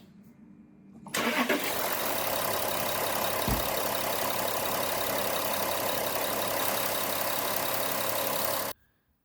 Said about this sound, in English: Now we're going to start the vehicle and run it for another 5 to 10 minutes.